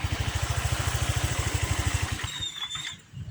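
A Honda Vario scooter engine idles close by with a rapid, even low putter that cuts out abruptly, leaving a faint hum and a couple of light clicks as the idle-stop system shuts the engine off.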